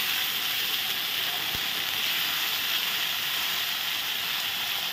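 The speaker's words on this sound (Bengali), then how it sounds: "মশলাটা আমি সুন্দর করে কষিয়ে নেব" A spice paste of ground green chilli, cumin and poppy seed fries in a pan with a steady, even sizzle and hiss, close and continuous throughout.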